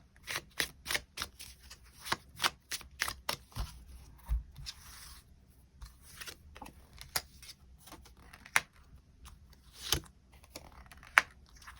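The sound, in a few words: shuffling and drawing tarot cards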